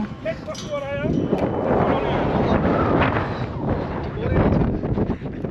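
Wind roars and buffets the microphone in a continuous low rumble during a motorcycle ride in Ilam, Nepal, with a voice heard briefly near the start.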